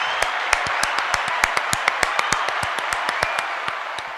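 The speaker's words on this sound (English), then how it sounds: "me and E start clapping and stop clapping together" Two podcast hosts clap in unison, a steady run of sharp, evenly spaced claps at close range over a faint background hiss, with no talking.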